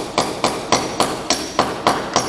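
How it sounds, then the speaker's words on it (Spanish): Galvanized nails are hammered in a row along the edge of a fiberglass mural panel: seven sharp, evenly spaced hammer strikes about every quarter second, loud and close, each with a brief ringing tail, with no voices. "reforzamos la orilla con una hilera de clavos"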